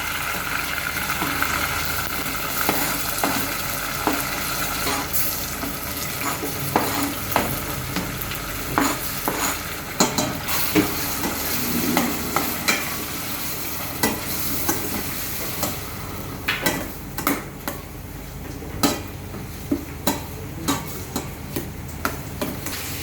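Chopped tomatoes sizzle and fry in a pot with browned onions while a spoon stirs and scrapes repeatedly for pulao. The frying hiss is steady and close, with regular sharp scraping knocks, and no voices are heard.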